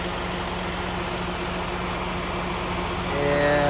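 A truck engine idles steadily as it pulls into a truck repair shop, a close, constant low rumble that grows slightly louder near the end, with no talking.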